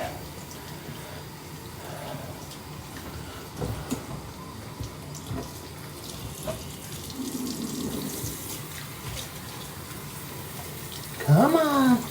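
Water from a tap runs steadily while kittens are rinsed in a bath, a continuous splashing flow with soft bumps and a brief high animal cry near the end.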